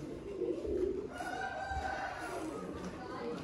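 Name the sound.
pigeons cooing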